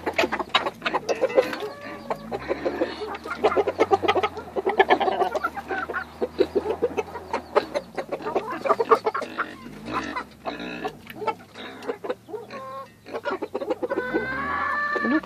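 Chickens cluck busily and continuously at close range while eating onion greens, a dense chorus of short calls with occasional louder squawks, no talking.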